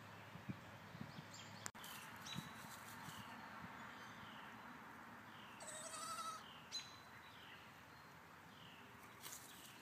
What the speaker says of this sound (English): Goats are starting to get settled in a little bit here.